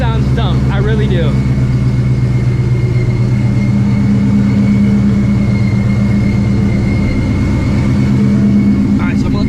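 A Ford Shelby GT350 with a 900 horsepower build and an exhaust with no catalytic converter idles steadily while warming up, a loud, close, low rumble holding even throughout with no talk.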